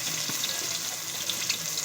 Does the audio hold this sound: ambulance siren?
no